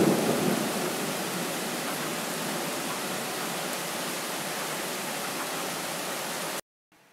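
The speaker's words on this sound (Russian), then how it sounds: "Послушаем немножко дождик." Steady rain pours in a summer thunderstorm, a dense even hiss with a low rumble at the start, continuing unbroken until it cuts off abruptly near the end.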